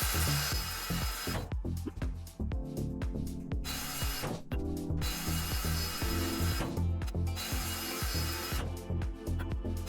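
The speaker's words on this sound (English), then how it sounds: "We can now grind these off" A power grinder cuts into ship parts in the Ship Graveyard Simulator 2 video game, a loud harsh whine in repeated bursts with brief pauses between passes.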